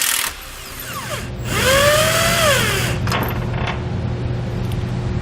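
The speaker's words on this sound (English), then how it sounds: "Remove the passenger side lower subframe bolt using a 21mm socket." An impact tool on a 21mm socket removes the passenger side lower subframe bolt of a 2018 vehicle, giving a loud, rising and falling whine that lasts about two seconds, followed by quieter mechanical noise.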